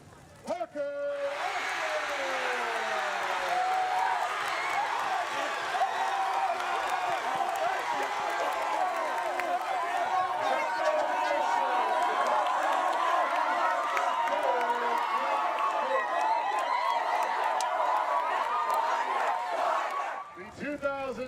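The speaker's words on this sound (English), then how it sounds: "The crowd went wild during the announcement at halftime of the Powderpuff game last night." A large crowd cheers and roars loudly at the homecoming announcement during halftime of a high school Powderpuff football game, a sustained wall of shouting and applause lasting about twenty seconds before cutting off abruptly.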